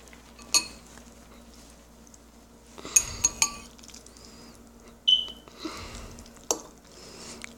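Hot spicy noodles are mixed in a dish with a few sharp utensil clinks against the bowl, spaced apart and close, set against a quiet background.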